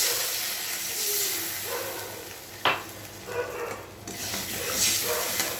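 Water poured onto hot masala in a pan of taro and prawn curry sets off a hissing, steaming sizzle with a sharp burst partway through, then a continued bubbling hiss, close by and without speech.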